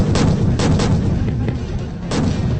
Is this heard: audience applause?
no